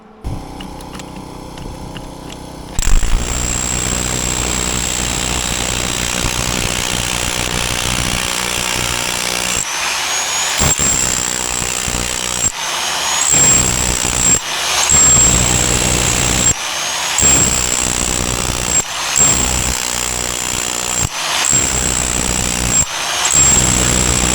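Bauer SDS Max rotary hammer driving a homemade tamper bit, a loud, continuous hammering roar that cuts out briefly and restarts several times after a short quiet start.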